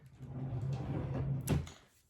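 A bathroom drawer slides open so a small mirror can be taken out, giving one short, close scraping knock near the end over a steady low background hum.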